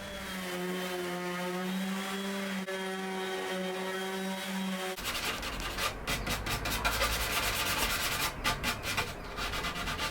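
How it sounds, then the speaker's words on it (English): Sanding wooden corner desk parts in a garage: a steady tonal machine hum for about five seconds, then a broadband rasping scrub of sanding with pulsing strokes continuing to the end. "now what I'm going to do is I'm going to sand them all down"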